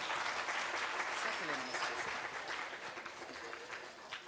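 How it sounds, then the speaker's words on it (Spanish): An audience at a public talk and exhibition event claps steadily in a dense wash of applause that tapers slightly toward the end, with faint voices mixed in. "Fuertes los aplausos, por favor."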